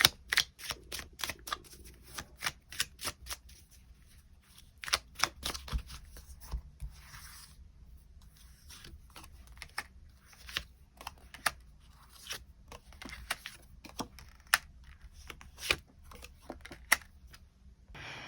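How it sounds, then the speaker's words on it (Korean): Tarot cards shuffled and handled during a love-fortune reading, giving a quick run of crisp close riffles and flicks in uneven bursts, with soft taps and low background hum and no talking. "추가 카드로 앞으로 나의 연애를 더욱더 잘 만들어가기 위한 조언의 카드 무엇이 있을지 추가 카드 뽑아보도록 하겠습니다"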